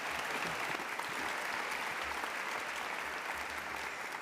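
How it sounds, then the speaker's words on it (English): Sustained applause for Spotlight teachers at a school board meeting, a dense, even clapping from an indoor audience lasting several seconds. "Let's give another round of applause to all of our 2016 Spotlight teachers."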